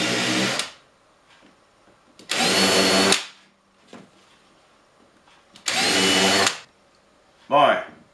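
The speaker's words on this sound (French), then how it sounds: "Pré-percé et chanfré." A power drill pre-drills and chamfers holes in a wooden board for a gouge holder: three loud, close whirring bursts of under a second each, separated by quiet gaps, ending with a short higher-pitched spin.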